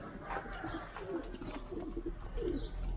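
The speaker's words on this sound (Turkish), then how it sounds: "Güvercinlerimiz." Pigeons in a loft with nests, eggs and young coo repeatedly in low throaty phrases, close and moderately loud over a soft background hum.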